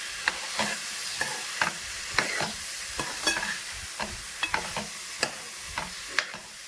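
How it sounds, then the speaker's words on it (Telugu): Ridge gourd and chana dal curry is stirred in a hot pan, a soft continuous sizzle punctuated by regular sharp scraping taps of a spoon against the pan, roughly every half second. "బీరకాయ అన్నిటికీ కూడా కొద్దిగా కలిపేస్తున్నామండి"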